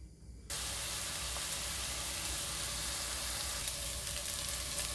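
Onions hit hot olive oil in a pan and burst into a loud, steady sizzle that holds evenly to the end after a brief quieter moment, with no talk.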